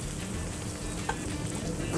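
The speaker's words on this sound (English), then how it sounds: "Chorizo sizzling, popping, smelling amazing." Chorizo fries in a pan with a steady, close sizzle and one or two small pops.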